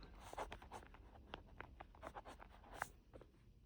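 Handwriting with a pen on paper, soft scratchy strokes and small taps in an irregular rhythm, quiet and close with no one speaking.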